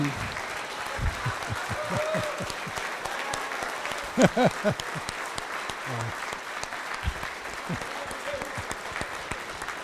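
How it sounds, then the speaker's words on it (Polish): Concert audience applauding a performer coming on stage, a steady dense wash of clapping that runs the whole time, with a few brief voices and cheers rising out of it midway. "Zapraszamy, ale gromkimi brawami, strasznie mocnymi, Witamy młody talent."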